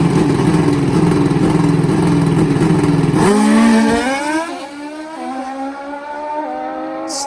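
Nitrous drag racing motorcycles, including a 468 Smokin' Joe, launch side by side with a loud, dense engine roar that pulls away and fades into falling, receding engine tones.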